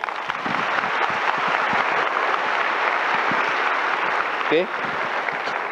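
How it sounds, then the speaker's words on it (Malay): Audience clapping at an Amway recognition event, a continuous layer of applause running throughout with a brief vocal sound partway through. "Tepukan pada MBA"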